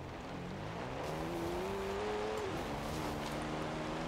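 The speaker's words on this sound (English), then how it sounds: "It's not a V8 anymore, it's a V12." A 1,000-horsepower V12 Aston Martin revs in Forza Horizon 4, a steady, droning engine note that climbs in pitch, holds, then drops back, continuous and close throughout.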